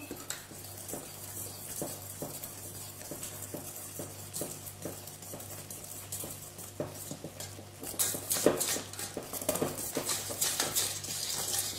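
Madeleine batter stirred in a bowl, a steady rhythm of utensil scrapes and taps against the bowl that grows busier and louder toward the end, close and alone.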